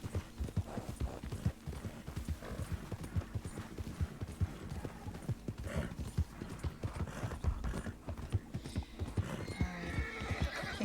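Horse hooves clip-clop in a quick steady rhythm through a western video game town, with a neigh breaking in among the hoofbeats and faint game sounds beneath.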